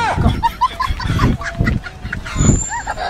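Chickens squawk and cluck in agitated bursts close by while running, with a voice calling out over the commotion.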